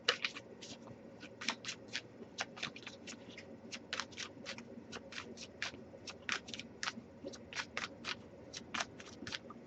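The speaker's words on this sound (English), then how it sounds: "but I'll get a few more shuffles" Quiet, rapid riffling and snapping of playing cards being shuffled, repeating in quick bursts close by.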